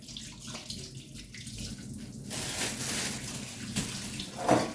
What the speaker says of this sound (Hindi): पहले इसमें मैं फ्रूट्स सारे धो लूँ